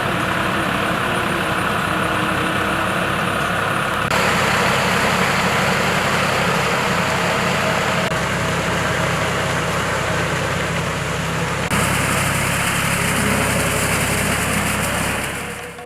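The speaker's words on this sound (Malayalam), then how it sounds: "ഈ ട്രാക്ടർ ഉരുളുന്നത് ചരിത്രത്തിലേക്കാണ്." A tractor engine runs steadily in a paddy field, a loud close diesel drone with shifts in tone and no talk over it.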